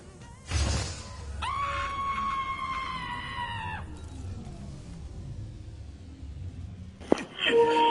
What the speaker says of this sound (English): Why did Rocket just scream?